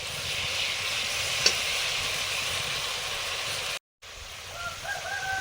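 A paste of Kashmiri chili powder, melon seeds, poppy seeds, cashews and raisins fries in a pan with a splash of water, a steady close hiss that cuts briefly, then resumes with faint chirps.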